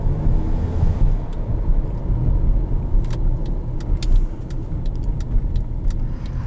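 A 2011 Acura RDX turbocharged SUV engine pulls steadily as it accelerates, a loud continuous low rumble heard from inside the cabin with faint light clicks near the end and no talking.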